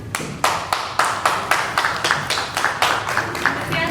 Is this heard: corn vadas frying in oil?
no